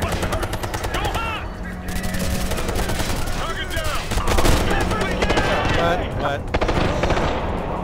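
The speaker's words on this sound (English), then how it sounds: "The LMG is good, but the reload time is a real pain." LMG fire in Ghost Recon Future Soldier: dense, loud sustained automatic bursts rattle almost without pause, layered with other weapons and battle noise.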